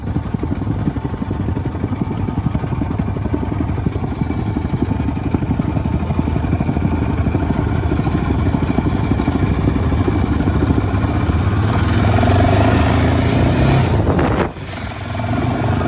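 Dirt bike engines at a dunes campground drone loudly and continuously, the revving rising toward the end before briefly cutting down, with no clear talk over it.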